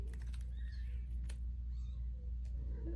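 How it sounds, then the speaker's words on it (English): Kittens mew faintly in the background, a few thin, brief cries over a steady low indoor hum, distant and quiet. "Sorry if you can hear the kittens."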